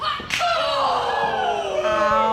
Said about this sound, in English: lighting her up with some chops